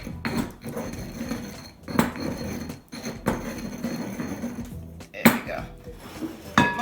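Minced garlic is mashed into a paste in a heavy bowl, with a utensil clinking and scraping against the bowl in irregular knocks and taps, fairly close, while a person talks over it.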